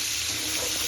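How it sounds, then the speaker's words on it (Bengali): Pointed gourd frying in a pan after a nigella seed tempering, giving a steady, close, even hiss of sizzling oil with no voices over it. "কালো জিরে ফোড়ন দিয়ে পটলগুলো এখন ভাজা বসিয়েছে"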